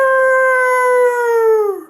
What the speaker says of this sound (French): il se met à hurler